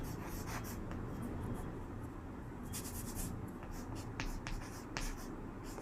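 Steady scratching strokes of writing on a board during a class 10 maths lesson, faint and close over a constant background hiss, with a few sharper taps between strokes.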